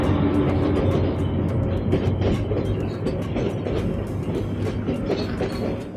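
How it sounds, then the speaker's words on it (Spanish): A tourist train rolls steadily nearby through an abandoned train yard at the Rio Tinto mines in Huelva, wheels clattering in a continuous rumbling rhythm with no voices. "divisamos cómo se acercaba el tren turístico"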